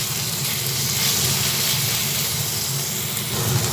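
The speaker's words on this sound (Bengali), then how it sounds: "পেঁয়াজ আর রসুনটা ভাজা হচ্ছে সেই সময় আদা বাটা দিলাম" Onion and garlic paste frying in a pan as the base for a milk chicken curry, with ginger paste going in; a loud, dense, continuous hissing sizzle, close up and without talk.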